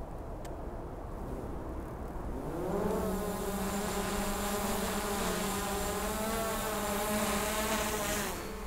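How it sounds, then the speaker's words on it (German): Quiet hum, then the propeller motors of a DJI Mavic Air 2 drone whir up quickly into a steady high-pitched buzzing drone that holds close and fairly loud. "Ihr hört die Motoren anlaufen, die Drohne startet"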